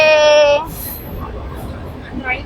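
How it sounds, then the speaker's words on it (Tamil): A passing train in Chennai sounds a loud, harmonic horn blast for about half a second, followed by a lower, rumbling wash of rail noise with voices murmuring nearby. "கிராஸ் பண்ணி போகிறப்போ ட்ரெயின் சவுண்ட் கேட்கும்"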